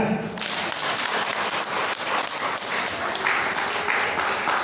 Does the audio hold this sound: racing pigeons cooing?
no